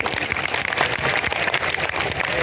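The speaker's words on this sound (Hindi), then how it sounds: "उनका जोरदार तालियों की गड़गड़ाहट से स्वागत है" An audience at a Parshuram Jayanti gathering at Gufa Mandir, Bhopal, applauds a speaker, a dense, loud, continuous wash of clapping from many hands.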